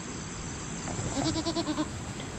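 A young goat bleats nearby in a short wavering call of several rapid pulses, over a soft background hum.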